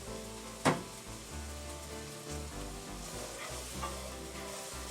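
Pancetta fries in a pan for beef bourguignon, sizzling steadily while a utensil stirs and scrapes it, with one sharp knock early on and no talk.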